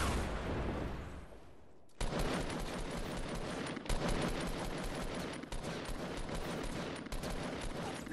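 Rapid automatic gunfire in the video game Fortnite, dense sustained bursts close and loud, broken by brief pauses, after a quieter opening second.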